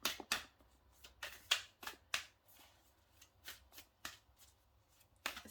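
Tarot cards are shuffled and drawn in a quiet room, giving a series of crisp riffling flicks and soft slaps in an uneven rhythm, close and fairly faint.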